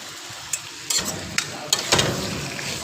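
Food frying in a pan at home, a steady close sizzle with a few sharp pops and clicks of stirring over it, no talk.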